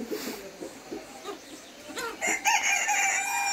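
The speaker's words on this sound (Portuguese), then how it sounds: "Esse galo, olha o tamanho desse galo." A large Brahma rooster crows once near the end, loud and close, after a stretch of softer clucking and bird sounds.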